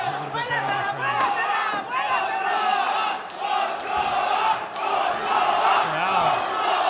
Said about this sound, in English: Crowd chanting at Choa's name